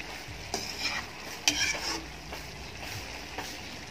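Sautéed eggplant (ginisang talong) stirred in a pan: a steady close sizzle and hiss, broken by a few sharp scrapes and clinks of the utensil against the pan, with no talking.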